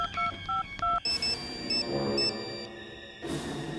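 Quick series of telephone keypad tones, short evenly spaced beeps, followed by a steady electronic tone pattern like a call connecting.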